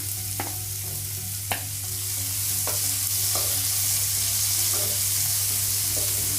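Onion and tomato fry in a pan with a steady, close sizzle, broken by a few sharp scrapes of a stirring spoon.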